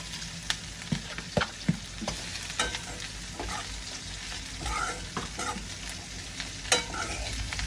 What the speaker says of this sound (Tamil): போட்டதுக்காக நல்லா மிக்ஸ் பண்ணிடுவேன்